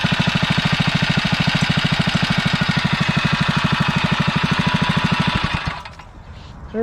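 A REO Trikeabout's small engine, fitted with a new muffler and governor, chugs close by in a steady rapid thump that holds for about five and a half seconds, then cuts out abruptly into near silence.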